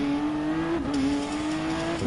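A turbocharged car engine in Gran Turismo Sport accelerates steadily, its loud droning tone climbing with a brief shift dip partway through, alone with no voices.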